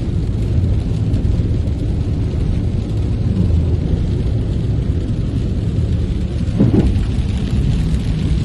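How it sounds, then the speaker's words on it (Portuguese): Heavy rain pours in a steady, dense roar with a deep thunder rumble swelling near the end, all loud and continuous with no voices. "Isso que é chuva, hein, Zeno?"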